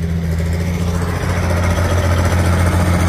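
A 145-horsepower tractor idles steadily nearby, a continuous low diesel rumble with no change in pace throughout.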